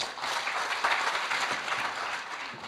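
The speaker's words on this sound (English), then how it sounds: "Let's keep clapping, let's keep clapping" A parliamentary audience applauds steadily, a dense wash of many hands clapping at an even level throughout, with no voices standing out.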